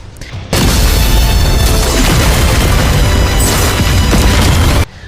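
A massive explosion sound effect that hits abruptly and holds as a loud, dense roar for over four seconds before cutting off.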